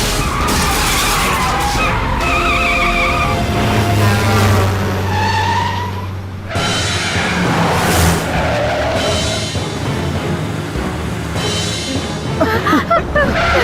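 Movie action-scene audio of a car skidding with squealing tyres, loud and close, amid engine roar, crash and shattering impacts, with abrupt cuts and brief shouted voices.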